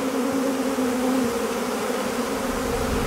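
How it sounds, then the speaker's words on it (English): A swarm of bees buzzes densely around a person, a close, continuous, loud droning hum with no voices. "Coyote, there you are just covered in bees, man"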